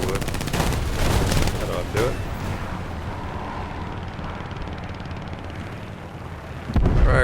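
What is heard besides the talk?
Hawk III aircraft guns firing in video game War Thunder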